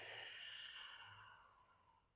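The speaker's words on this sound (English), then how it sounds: "Exhale." A deep, slow exhale during a Pilates core breathing exercise, soft and breathy, close to the mic, fading out over about two seconds.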